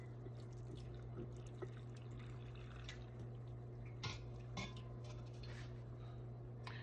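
Warm pickling liquid for purple onions pours into mason jars with a soft, faint trickle and scattered drips and clinks against glass under a low steady hum.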